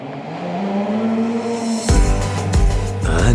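A Porsche sports car engine roars and revs loudly, dropping briefly before surging again with sharp gear-change bursts, close and dominant with no talk.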